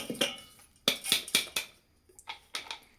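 A pressure cooker being handled for wheat kheer, giving a series of sharp metallic clinks and knocks in uneven bursts, close and moderately quiet, with brief pauses between them.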